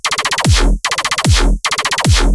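An aggressive dubstep growl synth designed in Vital, repeating three times in loud, dense bursts, each a rapid stuttering wobble followed by a sweeping downward bass dive.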